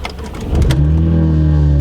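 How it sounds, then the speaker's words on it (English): A BMW E82 135i fires up: a brief cranking whir, then the engine catches with a loud surge and settles into a steady, close idle drone. "we just want to see if the car is going to start"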